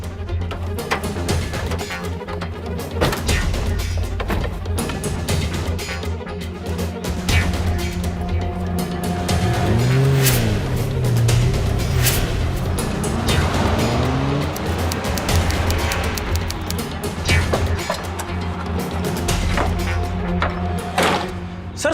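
A police car pulls away, its engine and road noise forming a loud, continuous rumble with rising and falling tonal sweeps partway through.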